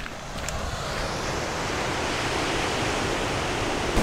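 Waves on a hidden beach on the Isle of Harris in the Outer Hebrides: a steady, broad wash of surf mixed with wind rush, fairly loud and continuous, with no voices.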